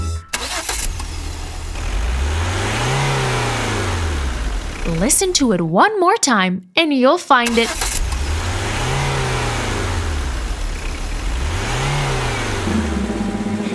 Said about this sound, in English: The vehicle hiding is a car.